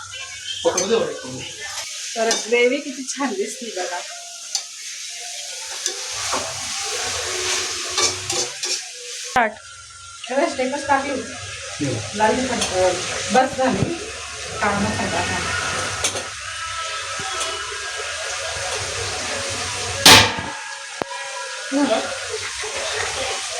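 Spices stirring and frying in a pan for chicken gravy in a home kitchen: continuous close sizzling with scraping stir strokes and occasional utensil clinks, while people talk throughout.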